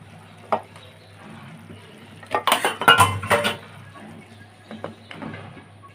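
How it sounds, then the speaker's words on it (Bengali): A lid set down over a pot of vegetable curry cooked with sprinkled mung dal, a cluster of close metallic clinks and rattles in the middle, with a few lighter clanks before and after. "এখন আমি আবার ঢাকনা দিয়ে ঢেকে দেব"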